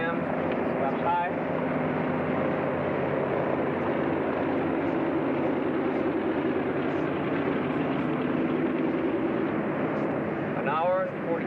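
A propeller airliner lands and taxis in the 1950 film The Big Lift, its steady, loud engine drone running throughout with cockpit voices speaking over it.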